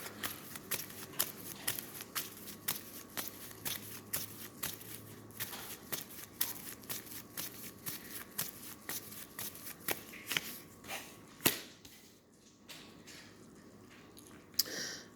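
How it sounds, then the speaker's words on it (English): Tarot cards being shuffled by hand in a quiet room, a long run of rapid, crisp riffling flutters that repeats in steady bursts, close and fairly soft, pausing briefly near the end. "Let's pull some cards."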